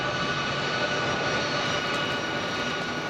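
An RAF C-17 heavy long-range cargo aircraft at Brize Norton, its jet engines giving a steady, loud, unbroken roar with a high whine running through it for the whole stretch.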